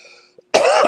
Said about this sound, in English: I turned that fan on and I've been coughing ever since.